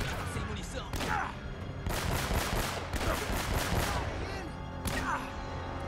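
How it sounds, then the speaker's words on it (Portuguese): An enemy shooter in Uncharted: Drake's Fortune fires repeated gunshots, loud rapid bursts and single cracks spread across a few seconds, while a player's voice talks over the shooting. "Cara, tem alguém atirando em mim aqui."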